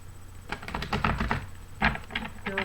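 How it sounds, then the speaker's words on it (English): Quick bursts of crisp, papery riffling as tarot cards are shuffled, in a few short flurries close to the microphone. "Let me shuffle."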